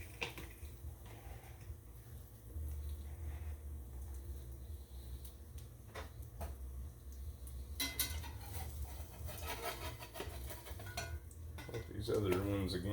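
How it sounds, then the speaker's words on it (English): Batter for French toast being stirred in a bowl, with soft scraping and clinking of a utensil against the dish over low background hum, growing busier and louder near the end. "Go ahead and stir it up a little bit more."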